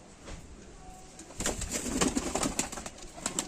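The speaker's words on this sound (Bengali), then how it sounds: "পায়রা খুব ছটফট করছে" Pigeons in a coop or cage, restless and fluttering: soft low cooing with bursts of wing flapping and scuffling that grow busier after the first second, close but fairly quiet, with no talk.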